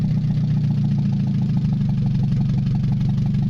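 A Mazda 626 engine with a bad EGR idles close and loud, a continuous low rumble with a fast, slightly uneven clatter pulsing steadily throughout.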